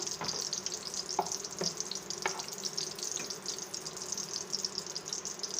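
Bay leaves dropped into hot refined white oil sizzle steadily and softly, with a few faint crackles and ticks scattered through the hiss and no voices.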